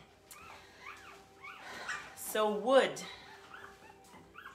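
Small puppies whimper and yip in a high, thin run that peaks briefly mid-clip, with a person speaking nearby.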